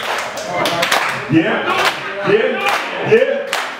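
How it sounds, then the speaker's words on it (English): A live hip-hop crowd claps together on the host's cue, several sharp communal hits landing at intervals under shouted talk from the stage. "Can I get an organized clap? Clap."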